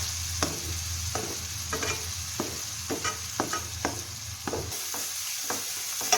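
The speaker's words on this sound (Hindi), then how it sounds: "2 छोटे प्याज जिनका पेस्ट बना के उनको हम फ्राई कर रहे हैं।" Ginger, garlic and onion paste frying in a pan with steady sizzling, while a spoon scrapes and stirs in a regular rhythm of soft strokes, close up with no talking.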